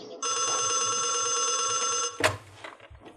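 An old landline telephone rings in a home, one steady, close bell ring lasting about two seconds, then it is cut off by a clatter as the receiver is picked up.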